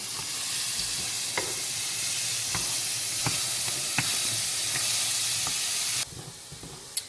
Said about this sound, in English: Now add in the onion and a large pinch of salt and stir fry for 10 minutes until golden brown